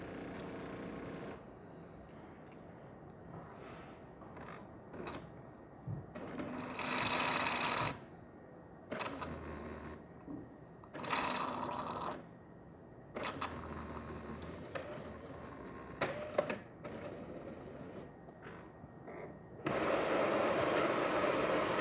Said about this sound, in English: the machine is going to grind espresso